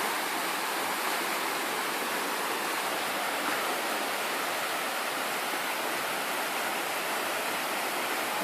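Ghora Mar waterfall near a roadside viewpoint, with spring water flowing, roars as a steady, dense broadband rush that holds constant and full throughout, no voices over it.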